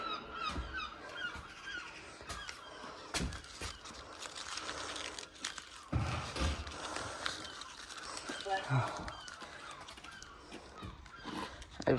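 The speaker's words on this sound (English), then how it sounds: "I've set the seagulls off badly." Seagulls call loudly and repeatedly around an Exmouth bus yard, their harsh cries overlapping with distant engine rumble, crinkling noises and people talking.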